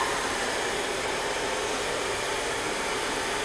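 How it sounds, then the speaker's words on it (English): Blow dryer held at an angle and moved up and down while smoothing hair with a Denman brush, giving a steady, loud, close whoosh of rushing air that runs unbroken throughout with no talk. "I have my blow dryer kind of cocked at a 45-degree angle, and I'm moving the blow dryer up and down"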